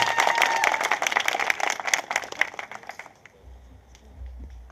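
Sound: audience applauding

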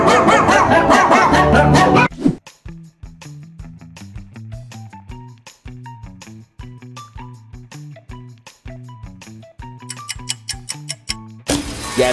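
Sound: meme dog barking

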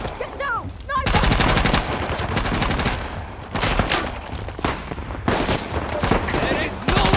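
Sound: sniper and gunfire in the video game Uncharted

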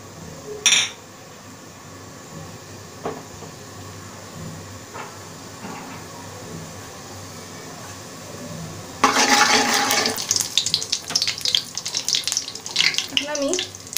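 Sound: cumin seeds tempering in hot oil

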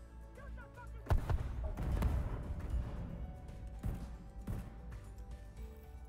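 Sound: cluster grenade explosions in video game The Division 2

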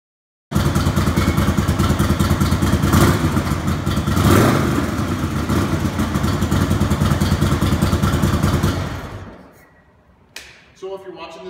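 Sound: 2007 Electra Glide Classic motorcycle engine running

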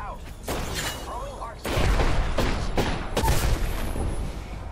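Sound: burst-fire gunshots in the video game Apex Legends

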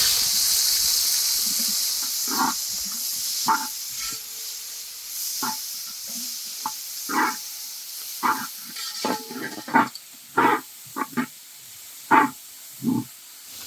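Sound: chopped onions frying in oil for chicken kurma

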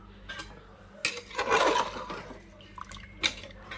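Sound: water poured into cooking pot

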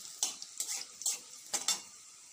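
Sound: garlic frying in a pan

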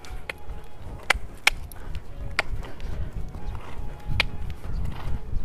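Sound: horse trotting on ground

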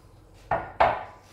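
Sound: mixing vermicelli, fish and sauce for briouat filling

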